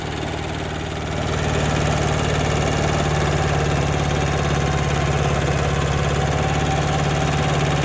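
A Kubota B5001 tractor tills soil in a field, its small diesel engine running at a steady, loud, close chugging drone that swells slightly after the first second and holds evenly.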